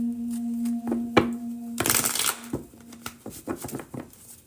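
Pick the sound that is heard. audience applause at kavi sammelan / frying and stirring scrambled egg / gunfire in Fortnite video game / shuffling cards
shuffling cards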